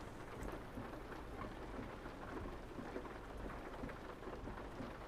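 Steady rain and low rumbling thunder in the truck-driving game Euro Truck Simulator 2, a continuous dense downpour with rolling booms underneath, even and unbroken throughout.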